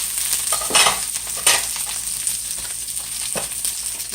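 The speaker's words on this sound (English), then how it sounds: "okra all ready over there. So cooking nicely." Okra cooks in a pan with potatoes nearby, a steady sizzle broken by several louder bursts of stirring, close and without speech.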